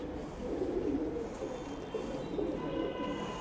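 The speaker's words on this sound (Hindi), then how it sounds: "ये बड़ा कबूतर है" A large racing pigeon in a Delhi-Haryana pigeon club loft coos softly, with low, repeated throaty calls close by under faint background ambience.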